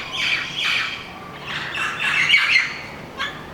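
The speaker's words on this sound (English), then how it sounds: "Two lovebirds, literally." Two lovebirds chirp and squawk in a series of sharp, bright calls, with several bursts close together in the middle and a final short squawk near the end, nearby and fairly loud with no talking.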